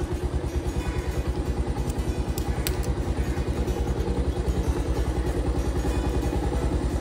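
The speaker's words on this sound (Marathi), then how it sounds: "तर आता आपण चालू करूया बाईक" A motorcycle engine idles steadily with a rhythmic low chug and light mechanical clatter, even and continuous throughout, with no voices present.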